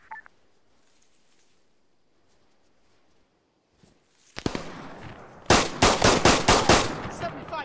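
Automatic gunfire in CSLA Iron Curtain, a military game: a quiet stretch with faint sounds, then a sudden loud burst and a rapid string of sharp close shots.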